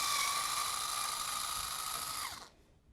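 A power drill whirs steadily while backing screws out of the rear cover of a 48-inch dual fuel oven, a close, sustained high-pitched whine that winds down and stops near the end, with no talk.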